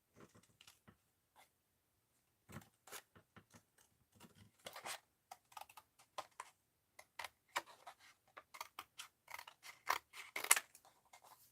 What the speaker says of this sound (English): Let's cut it here.